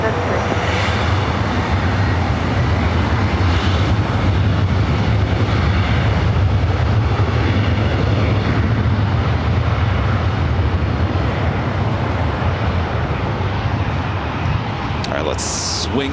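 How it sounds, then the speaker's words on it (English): Boeing 737 MAX 9 jet taking off at Los Angeles International Airport, a loud sustained engine roar and broadband rush that holds steady throughout, heard from nearby with faint radio chatter underneath. "This MAX 9 will take off as ETA is our next arrival here on the north side."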